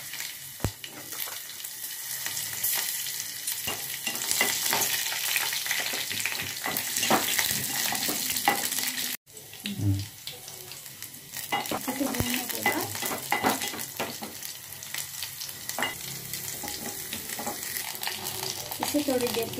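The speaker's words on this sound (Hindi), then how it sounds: "अब इसमें थोड़ा सा तेल डालते हैं, अच्छी मिर्ची, अदरक," Chillies, ginger and garlic frying in oil while being stirred for peanut chutney; steady close sizzling with scraping spoon strokes against the pan, a brief pause midway, then continued frying.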